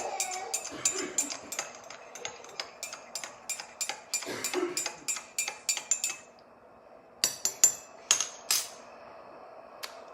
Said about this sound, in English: we're just gonna stir this really well